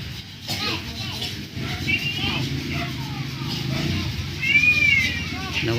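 A man imitates a cat's meow with a rising, drawn-out call, surrounded by chatter and other voices in a lively room.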